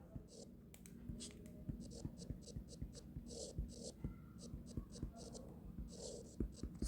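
Chalk or marker writing out mathematical physics equations on a board gives rapid scratchy strokes and taps in uneven bursts, close and fairly quiet, with a faint hum behind.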